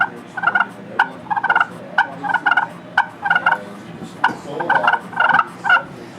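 A handheld turkey call plays soft clucks and purrs imitating feeding turkeys, short light chirping bursts repeated in small clusters, close and fairly quiet.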